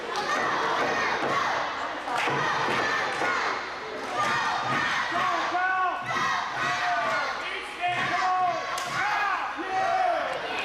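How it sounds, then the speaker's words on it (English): A crowd cheers and shouts at a wrestling match, loud and continuous with sharp slams and thuds mixed in, and a commentator talking over it. "Crowd cheering him on."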